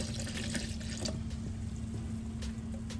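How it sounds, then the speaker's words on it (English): Cranberry juice pouring over mangoes and strawberries for a natural fruit punch, a steady continuous liquid stream running close and fairly loud throughout, with no talking. "Then we're gonna pour our cranberry juice."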